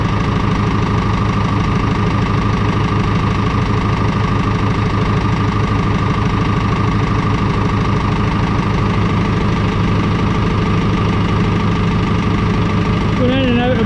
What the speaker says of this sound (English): tractors on idling.